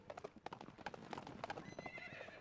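Hooves clip-clop during a horse ride in the video game Shantae and the Pirate's Curse, a quick run of quiet hoofbeats with a faint whinny mixed in.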